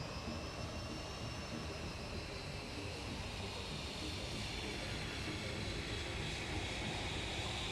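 A small plane with two thrusters in the Main Assembly video game flies with a continuous loud jet-like roar that holds steady without a break.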